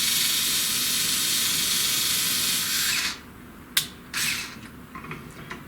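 A screwdriver turns bolts during assembly of a SainSMART Genmitsu PROVerXL 6050 Plus CNC router kit. A steady ratcheting hiss runs for about three seconds, then stops, followed by a few short metallic clicks and scrapes nearby.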